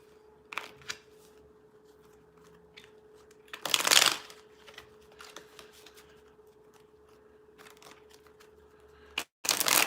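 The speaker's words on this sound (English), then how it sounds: "Two more shuffles." Tarot cards are riffled and shuffled in a few short, crisp bursts close by, with a louder flurry in the middle and another at the end over a faint hum.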